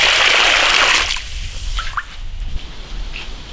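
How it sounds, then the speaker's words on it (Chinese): Water pours into a pot for boiling beef, a loud close hiss of running liquid for about a second, then settling into faint drips and small sloshes. "加水煮牛肉，"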